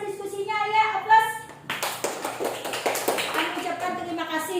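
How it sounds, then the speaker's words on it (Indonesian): Classroom audience at a university teaching-practice session applauds a student group after its presentation; brisk, dense clapping swells in after a brief voice and continues steadily, with some talk mixed in near the end. "Kita beri tepuk tangan dulu untuk kelompok 2 yang mempresentasikan hasil diskusinya ya."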